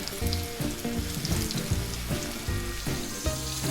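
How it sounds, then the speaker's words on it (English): Steady, close sizzling of country fried steak frying in hot oil, with crackling pops throughout and no talking. "We're going to put our first steak in, and it's sizzling just right."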